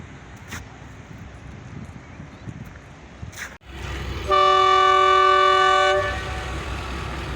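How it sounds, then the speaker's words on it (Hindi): A train pulls in at Drigroad junction in Karachi, its wheels rumbling on the rails, then a loud sustained horn blast of about two seconds rings out close by before the steady rolling resumes. "एक अभी ट्रेन आई"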